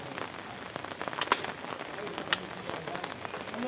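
Steady rain falls in a rural area during the rainy season, a dense patter of drops on surfaces with a few sharper nearby drips, and voices faintly mixed in.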